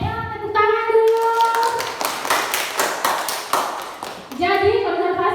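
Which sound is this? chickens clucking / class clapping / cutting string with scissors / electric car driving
class clapping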